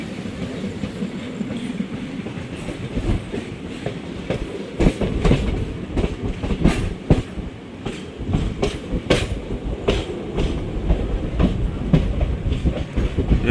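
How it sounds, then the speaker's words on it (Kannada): A train rolls into Chitradurga railway station with a loud, close rumble and repeated clickety-clack of wheels over rail joints, plus occasional metallic squeals, continuous throughout. "ಫೈನಲಿ ನಮ್ಮ ಟ್ರೈನ್ ಎಂಟ್ರಿ ಆಗ್ತಿದೆ ನಮ್ಮ ಚಿತ್ರದುರ್ಗ ರೈಲ್ವೆ ಸ್ಟೇಷನ್ಗೆ"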